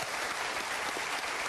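A television studio audience applauding at a French game show, steady dense clapping from a crowd, loud and continuous throughout, with no voices.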